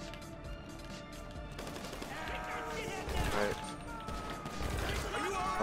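Rapid bursts of gunfire from the video game GTA 5 crackle repeatedly, with dense automatic volleys and single shots layered under game sounds and a player talking.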